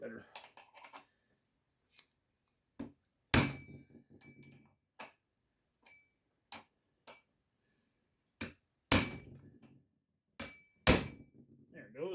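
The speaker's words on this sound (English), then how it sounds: "I think this time I'm going to use a chisel" Sharp metallic hammer blows strike a chisel while taking apart a Husqvarna 350 chainsaw, with several loud ringing hits at irregular intervals and lighter taps and clicks between them in a quiet space.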